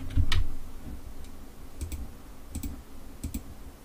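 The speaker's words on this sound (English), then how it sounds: "I'm actually gonna have to type it in." Typing on a computer keyboard during a Minecraft session, a few quick clusters of light key clicks close up, with short gaps between bursts and no talk.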